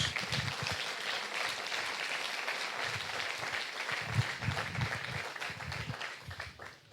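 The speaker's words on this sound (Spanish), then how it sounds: "Bríndenle un aplauso a Jesús." A church congregation applauds in a continuous, fairly distant wash of clapping with a few louder bursts, tapering off toward the end.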